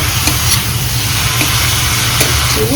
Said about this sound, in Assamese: এতিয়া ইয়াত ধুনীয়াকৈ লাৰি দিব লাগিব মজাকৈ